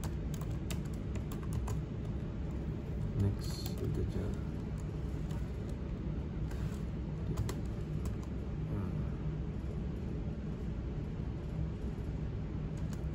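Someone types on a computer keyboard with light, fairly steady clicks over a low background hum. A pigeon coos faintly nearby, and a voice speaks briefly.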